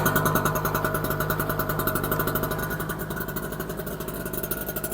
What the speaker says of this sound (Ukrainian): Ну, як бачите, генератор працює.